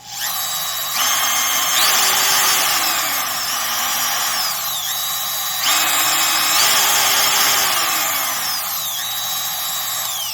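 Ridgid R2401 second-generation trim router motor with soft-start control, spinning up twice in rising whines that hold at a loud, close, steady pitch and then wind down, with no voices.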